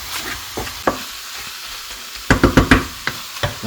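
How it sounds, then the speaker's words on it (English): A spoon stirs Jamaican beef patty filling seasoned with curry powder in a pan, giving a few soft scrapes and then a quick cluster of clattering stirs with light sizzling, close and alone. "At this point you want to give it a stir."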